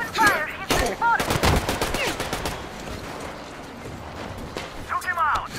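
Bursts of gunfire in the Metro Exodus video game, sharp repeated shots in quick clusters near the start and again at the end, with shouted voices mixed in.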